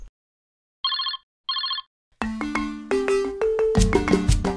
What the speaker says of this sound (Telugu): ఫోన్ చేసి చూద్దాం